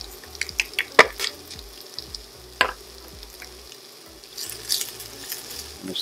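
Onion and pepper added to a hot pan with garlic, giving a few sharp clatters followed by a low sizzle and stirring, close and moderate with no talking.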